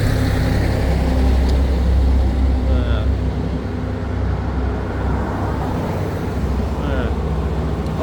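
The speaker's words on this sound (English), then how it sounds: "without these damn trucks here coming by here" Trucks rumble past on a roadway, a steady loud low-frequency engine and tire roar that swells near the start and stays constant throughout, with faint traffic noise around it.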